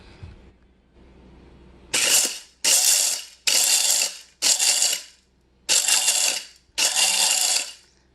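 Several loud, broadband mechanical clunks and rattles in sequence as the levers of a frit maker are pushed down, each lasting about half a second, separated by short pauses after a low hum.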